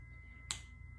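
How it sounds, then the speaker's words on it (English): A single crisp finger snap, alone and fairly quiet, against a low steady background hum in a group therapy session. "I count and snap my fingers to keep the count"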